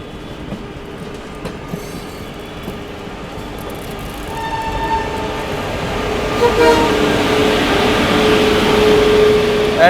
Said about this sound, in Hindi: सामने से कोई तो गाड़ी डिपार्चर लेकर के आ रही है।